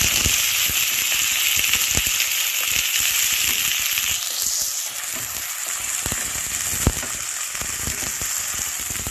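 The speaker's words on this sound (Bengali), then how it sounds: "এটা একটু ভালো করে ভাজবো।" Chopped onion and green chili sizzling hard in hot oil left over from frying fish, a loud, steady crackling hiss that softens slightly midway and carries on alone.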